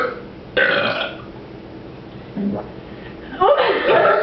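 Loud, close burps during a burping contest: one long raspy belch, a brief short one, then another long rumbling burp at the end.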